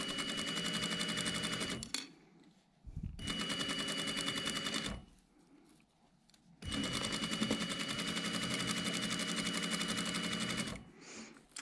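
A sewing machine stitches the back seam of a jacket in three long, fast, rattling bursts separated by brief pauses.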